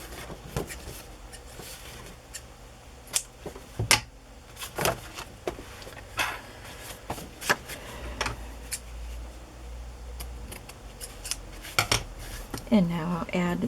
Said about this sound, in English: Just trim off what's hanging over.